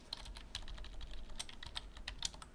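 Quick, light clicking of keys on a computer keyboard, a steady run of close taps with no voice over it.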